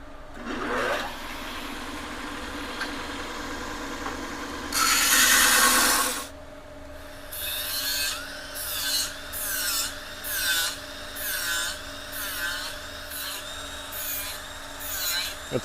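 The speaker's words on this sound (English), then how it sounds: "Now we're gonna go to the belt sander and grind it smooth." Belt sander grinding a welded swing-arm for a 1987 Honda TRX250R smooth, a steady abrasive rasp with a loud harsh burst midway, then a series of rhythmic grinding strokes over a constant motor hum.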